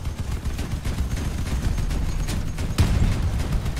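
Dense, continuous Crossout gunfire with heavy booming cannon blasts, one louder thump standing out near the end, no pauses.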